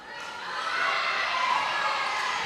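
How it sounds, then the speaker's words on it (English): A girls' volleyball team and a student section cheer in a school gym during a Nixa vs Willard high school match: a continuous crowd roar with high shouts that swells after the first moment and holds loud to the end. "as the volleyball team is cheering for him"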